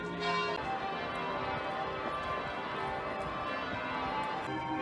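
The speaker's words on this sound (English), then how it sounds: "how far I can hear the famous sound of the Great Bell of Bow." The Great Bell of Bow, a church bell in London, rings continuously with a rich, sustained tone and layered overtones, heard from a distance under faint street ambience.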